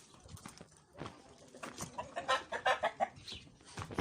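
Crossbreed hens cluck in short bursts close by during egg collecting, with soft rustling and a few quiet voices underneath.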